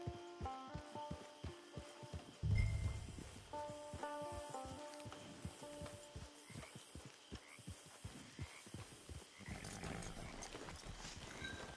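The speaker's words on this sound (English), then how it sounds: "Get your horse." A horse in the video game Red Dead Redemption 2 Online clip-clops at a steady walking rhythm beneath game music, with a snort or blow partway through and rustling near the end.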